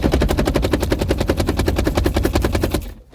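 The locked steering wheel of a C5 Corvette being violently shaken back and forth, a rapid even rattling clatter of about eight knocks per second, loud and close, stopping abruptly near the end.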